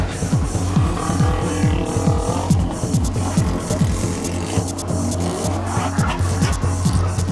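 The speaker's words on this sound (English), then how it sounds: "Wild customs mix it with big horsepower races." Custom cars with big horsepower racing, engines revving hard in repeated rising sweeps with tyre squeal, loud and close, continuous over several seconds without talking.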